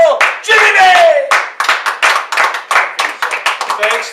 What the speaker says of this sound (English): now let's have a round of applause for the true Long Beach legends, Bob Carroll, Jimmy May!